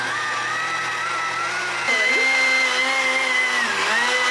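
A kitchen blender whirring through peanut butter for pancake batter, a steady loud motor drone that rises in pitch and strains as the load shifts partway through.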